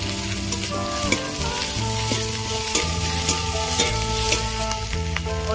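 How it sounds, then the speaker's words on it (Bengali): Garlic and grated ginger frying in a pan for an egg chop, a dense continuous sizzle with occasional stirring clicks and no voices. "রসুন ভাজা ভাজা হয়ে গেছে, এবার গ্রেট করে রাখা আদা কুচি দিয়ে দেব।"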